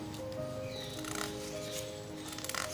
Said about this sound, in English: I'm also going to cut here.